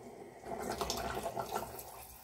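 Tamarind water is strained and poured into a pot of sambar, giving a faint, soft splashing trickle of liquid for a couple of seconds.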